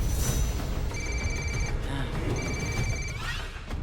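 A telephone rings in two short bursts of bright, repeating trills, heard over background noise and movement. A voice speaks over the ringing.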